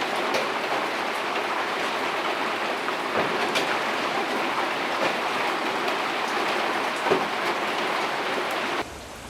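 Steady rain falls outdoors around a backyard grill where baby back ribs are being cooked, making an even, dense hiss that continues throughout and then drops off abruptly near the end.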